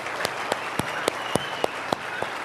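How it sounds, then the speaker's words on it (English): Seminar audience applause at a money-mindset workshop: a close steady wash of crowd clapping with a few sharp louder claps standing out at a regular pace. "You guys, a big round of applause for courage here."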